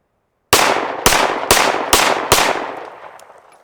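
Five sharp shots of Norma ammunition fired from a Gen 1 M&P pistol with a 5-inch barrel, evenly spaced loud cracks, each followed by a ringing decay, after a short silence.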